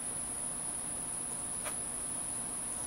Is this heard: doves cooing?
no